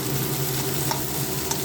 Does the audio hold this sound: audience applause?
no